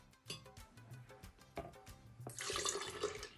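Water pours in a steady splashing rush into a blender holding tamarind and dried plums during the last second, after quieter clinks and tonal background sounds.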